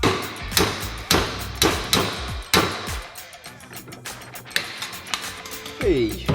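Loud, repeated metallic hammer-like strikes from power tools removing old bushings on a Toyota Sera, uneven rhythm, close by, then a brief squeaky grinding whine near the end.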